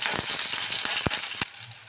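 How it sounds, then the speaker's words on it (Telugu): Cumin seeds hiss and sizzle in hot oil in a pan, a steady bright frying crackle broken by a few sharp pops and clicks. Nobody speaks. "ఇప్పుడు మనమైతే ఒక ప్యాన్ పెట్టుకొని ఆయిల్ వేసుకున్నాం ఫ్రెండ్స్. కొంచెం జీలకర్ర వేసుకుందాం."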